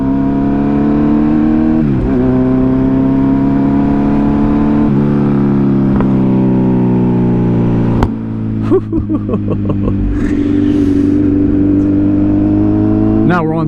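A 2023 Kawasaki Z900 motorcycle engine drones steadily, rising through revs with shifts, then backs off into a burst of sharp exhaust pops and crackles before pulling again, loud and close.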